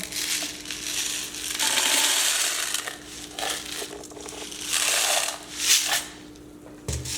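Crushed glass is scooped and shaken in a small cup for a resin Christmas tree table, giving bursts of gritty crunching and clinking, close and fairly loud, with a sharper tap near the end.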